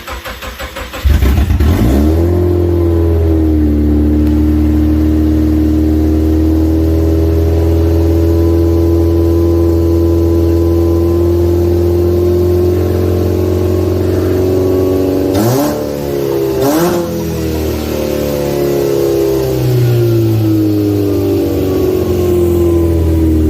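A Subaru engine swapped into a 1976 VW Kombi starting for the first time, cranking briefly then catching into a loud, steady, unset idle with a couple of revs partway through, close by and alone.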